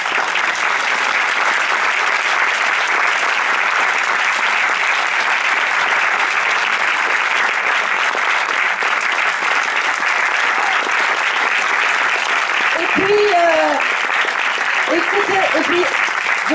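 Sustained, dense applause from a theatre audience at a film premiere fills the whole stretch, steady and loud, with a brief voice rising over the clapping near the end.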